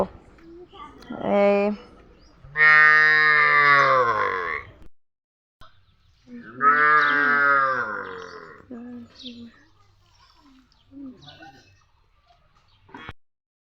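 Cows being washed give two loud, close, drawn-out moos that slide in pitch, followed by a few fainter low sounds before quiet.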